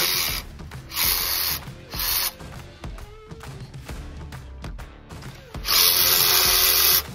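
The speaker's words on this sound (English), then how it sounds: "using a 1/2-inch socket and a battery-powered ratchet, George unscrewed and removed the 6 bolts from the base of the transmission tower" A battery-powered ratchet with a 1/2-inch socket unscrews the six bolts at the base of a Ford Model A transmission tower. Three loud, close bursts of buzzing, whirring ratchet action are separated by quieter mechanical clatter.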